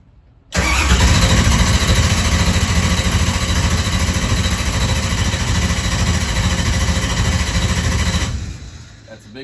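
A moonshine race car engine fires up abruptly and runs at a steady, loud, close roar for about eight seconds before cutting off, with no voices over it.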